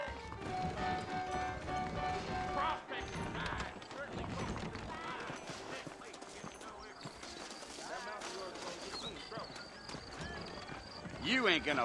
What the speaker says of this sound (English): You ain't gonna find sturdier horses than these in all of New Austin